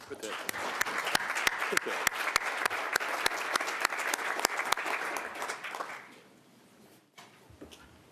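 Applause from a modest crowd at a city council committee meeting, steady clapping that fades out after several seconds, followed by quiet room sound.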